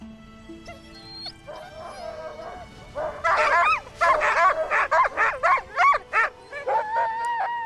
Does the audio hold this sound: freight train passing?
no